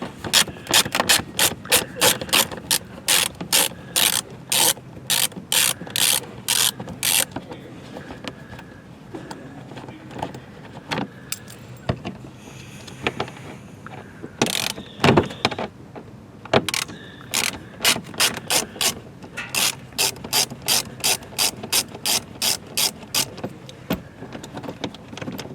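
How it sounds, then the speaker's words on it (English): A hand ratchet turning out two Torx T15 screws from a mount under a 2017-2023 Camaro ZL1, giving long runs of rapid, evenly spaced clicking, loud and close, broken by short pauses and a few handling knocks. "we're going to remove the two Torx T15 screws"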